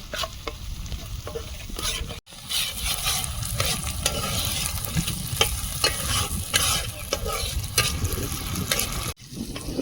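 Tomato and spice masala frying in oil for koi fish, a steady dense sizzle with repeated scraping stirs throughout, close and loud, with two brief breaks.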